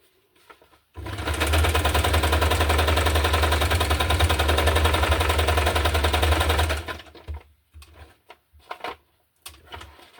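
A sewing machine stitches through paper for a hardcover junk journal in one loud, rapid, continuous burst of about six seconds, followed by a few short handling clicks and knocks.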